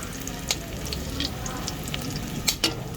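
Ginger frying in canola oil crackles with a steady sizzle, punctuated by a few sharp spatters and stirring clicks, close and fairly loud with no talking.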